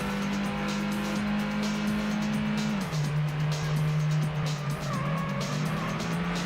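Race car engines in the Ford Racing video game, a steady droning whine that drops in pitch as the car shifts, with tires squealing and other cars roaring close by throughout.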